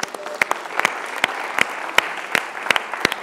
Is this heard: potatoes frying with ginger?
no